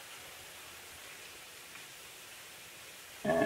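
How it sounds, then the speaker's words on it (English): Vegetables frying in a pan give off a soft, steady sizzle, quieter late in cooking, that holds evenly for a few seconds before a sudden louder burst at the very end. "the frying noise should be lower than it was when you put them in"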